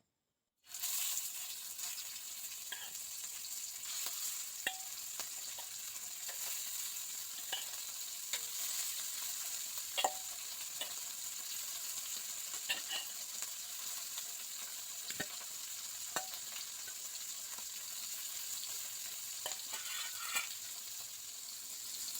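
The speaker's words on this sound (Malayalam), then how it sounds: "ഞാനിതാ മീനൊക്കെ വറുക്കാനായിട്ട് പോവാണ്" Steady sizzling and crackling of dried fish frying in hot oil, close and continuous, with occasional sharper pops and spits and no voices.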